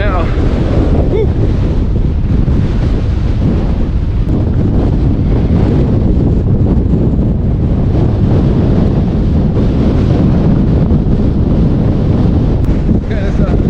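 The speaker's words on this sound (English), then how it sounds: "this wind is so strong" Strong, constant wind roars across a mountain trail during a high wind warning, buffeting the microphone loudly and without a break for the whole stretch.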